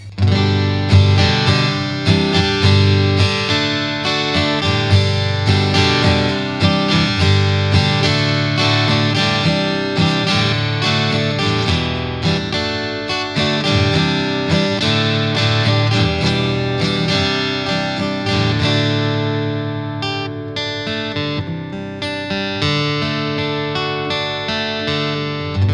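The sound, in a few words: Taylor 110E acoustic guitar through BOSS Katana amp with reverb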